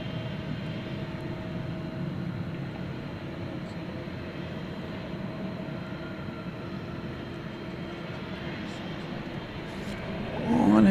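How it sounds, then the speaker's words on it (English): A UPS MD-11 cargo plane flies over a bridge near DFW airport, its engines a steady broad rumble in the distance that swells louder at the very end. "there goes the MD-11 over the UPS MD-11 over the bridge"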